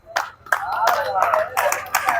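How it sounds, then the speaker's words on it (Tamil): Outdoor crowd at a village race and victory celebration in Velanai, Jaffna, applauding the finishers with bursts of scattered clapping, while a commentator speaks over the applause. "தொடர்ந்து மக்கள் கரகோஷம் உற்சாகம் கொடுத்து வந்திருக்கணும்."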